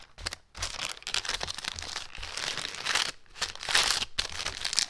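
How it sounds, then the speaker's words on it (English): Parchment paper is crinkled and folded around a sublimation keychain, close-up crackling and rustling in irregular bursts with brief pauses, no talk. "So then I'm going to wrap it in the parchment paper."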